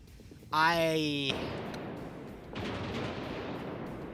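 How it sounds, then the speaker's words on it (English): A short burst of rapid mechanical autocannon fire in a video game, with a harmonic whine, followed by loud rumbling noise and a second, duller wave of blasts. "That is the sound of an autocannon firing."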